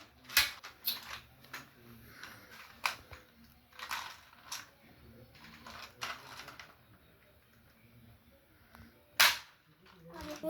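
A small toy cap gun bought at a fair fires a series of sharp, irregular snapping pops, some close together, with faint talking in the background.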